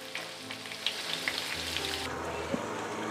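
Paneer frying in a pan until light golden gives a steady, close sizzle with a few sharp pops and spits, continuous throughout with no talking.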